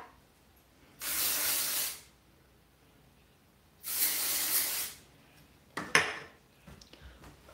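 Hair texture spray hisses from an aerosol can in two steady bursts about a second long, then a short sputtering third burst, close and alone in an otherwise quiet room.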